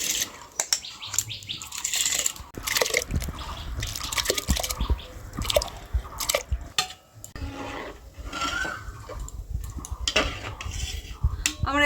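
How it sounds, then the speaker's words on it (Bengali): Washed rice is tipped into a pot for jackfruit biryani, giving scattered wet patters and clinks of grains and utensil against the pot, close and uneven throughout. "চালটা ধুয়ে রেখেছিলাম, এবার চালটা দিয়ে দিচ্ছি।"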